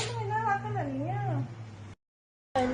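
A round-faced, handsome male Thai cat meows in long, rising and falling calls over a steady low hum, fairly close, then stops into a short silence before another sound begins.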